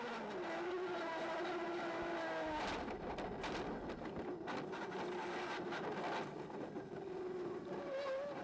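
A 1989 Formula 1 car's engine howls steadily from the onboard cockpit position as it nears a chicane, its loud high-revving note shifting pitch through downshifts and braking before rising again.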